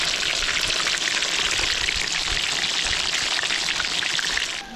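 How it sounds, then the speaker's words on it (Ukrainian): Pork knuckles sear in a cauldron over a campfire, producing a dense, loud, continuous sizzle with crackling that fades slightly at the end, no talking heard. "Зараз таким образом обжарюємо всі рульки"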